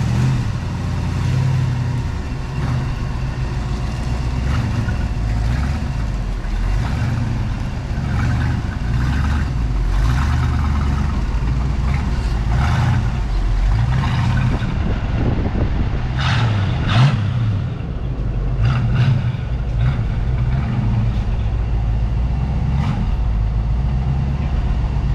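A Ford Mustang engine running steadily in a garage, a loud, continuous low rumble throughout with a few brief higher clatters and bumps near the end.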